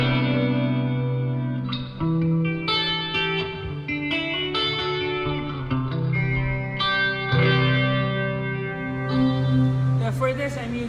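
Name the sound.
clean guitar tone with chorus, delay and spring reverb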